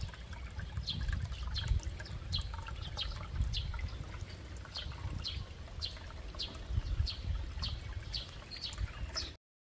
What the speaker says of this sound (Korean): 약수가 흐르고 있습니다.